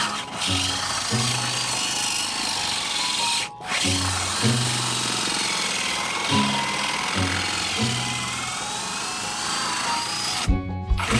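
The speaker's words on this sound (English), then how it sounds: "All right, I'm gonna drill through that." A power drill bores through a metal square tube stud in the side of a fifth-wheel trailer, grinding loudly and continuously with brief pauses and restarts of the motor.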